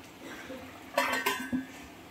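A couple of metallic clanks ring out up close as a lid is set on a cooking pot, followed by a softer knock.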